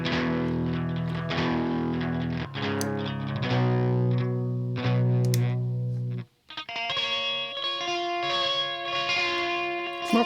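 Electric guitar played through a distortion effect pedal, a loud, saturated melody of sustained notes and chords with a brief dropout partway through before resuming.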